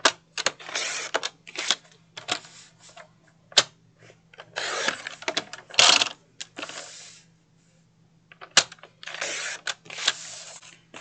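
Scissors cutting paper cut-aparts for a handmade book folio, with bursts of crisp snipping and rustling separated by short pauses, close and fairly loud, alone with no talk.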